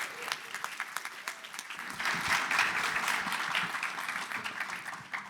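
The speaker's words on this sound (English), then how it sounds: "You give him a warm applause to Satyam Trivedi." Warm audience applause fills a sports panel discussion hall, starting with scattered claps and swelling into a dense, steady round of clapping from a sizable crowd that carries on for several seconds.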